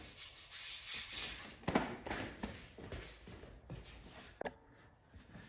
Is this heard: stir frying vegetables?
no